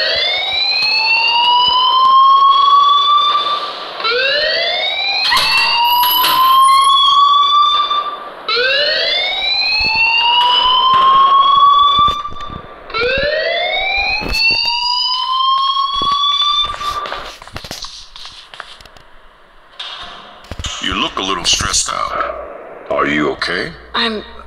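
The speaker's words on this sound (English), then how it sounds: "please turn off that alarm" A rising whooping electronic alarm repeats loud and close in an Android video game, sweeping upward about five times in rhythmic cycles before breaking into clattering noise and chirps.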